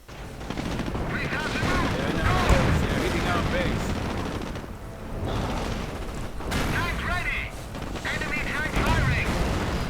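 Guns and recoilless rifles fire in a WWII strategy game battle, with a Churchill and a Panzer IV in the fight: dense, continuous bursts of gunfire and explosions, fairly loud throughout, with a narrator's voice running over the top.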